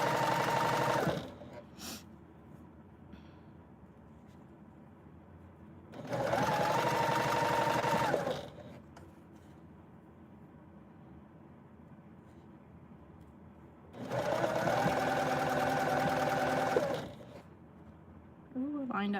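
A sewing machine back stitching and sewing a tote bag runs in three bursts, a short one, then a longer steady whir, then another, with quieter pauses between.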